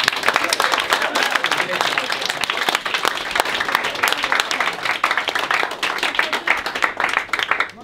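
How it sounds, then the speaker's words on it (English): A workshop audience in a room breaks into lively, close applause that lasts nearly eight seconds, with many individual hand claps standing out and a few voices mixed in under the clapping. "Well done, everybody. Round of applause."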